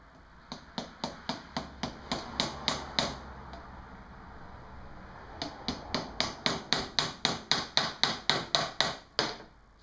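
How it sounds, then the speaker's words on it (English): Close, sharp hammer taps on a motorcycle fork seal in two quick runs of about ten strikes each, separated by a short pause, ringing slightly after each hit. "use my hammer"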